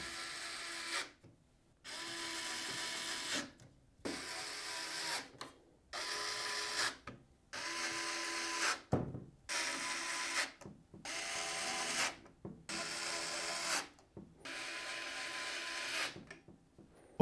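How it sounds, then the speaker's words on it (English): Screws drive a motherboard into a PC case in a run of short, buzzing whirrs from a powered screwdriver, around nine bursts of a second or two each, separated by brief silences and heard up close. "we're going to use 9 of these screws to secure our motherboard into place."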